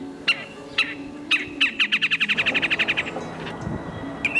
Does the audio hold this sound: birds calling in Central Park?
yes